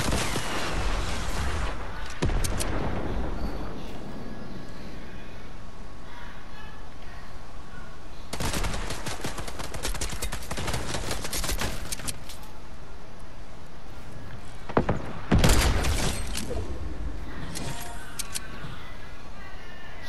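Fortnite sniper rifle gunfire rings out in several separate loud, sharp bursts, spaced seconds apart, with quieter game ambience in the gaps.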